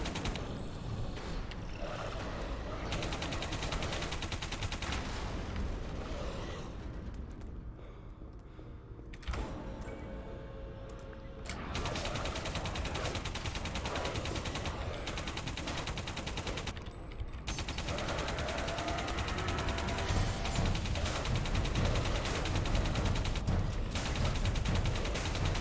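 Shotgun blasts and other weapons fire continuously in the video game Alien Breed Impact. Dense, rapid bursts fill the whole stretch, with short lulls before the shooting resumes loudly.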